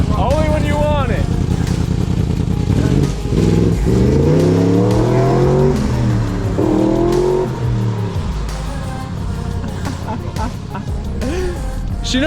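A car fitted with a roll cage, an eighth-generation build, runs loud and close, its engine droning and rising and falling in pitch across repeated throttle blips.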